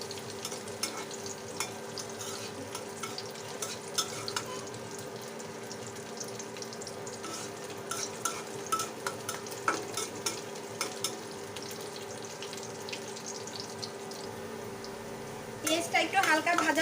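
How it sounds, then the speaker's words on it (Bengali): Onions sizzle softly in a pan for a beetroot fry as a spatula stirs and scrapes in uneven strokes, with a steady low frying hiss and a louder burst of clatter near the end. "পেঁয়াজটা একটু হালকা ভাজা ভাজা যখন হয়ে যাবে তখন এর মধ্যে দিয়ে দেব বিটরুট"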